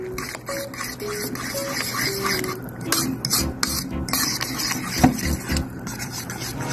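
Scraping and stirring of a mixture in a bowl while preparing a budget ulam before frying, with steady utensil rubbing against the bowl and a few sharper clinks throughout.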